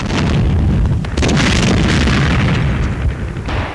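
Artillery fire recorded for a 1943 German newsreel: loud, dense rumbling booms roll together almost without pause, heavy and close with a thick low-end roar.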